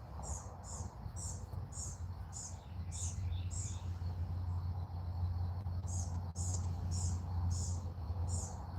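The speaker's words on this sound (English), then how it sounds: "You hear the birds?" Small birds chirp at sunset in a quiet outdoor setting, a regular series of short high repeated calls over a low steady hum, fairly faint with no talk.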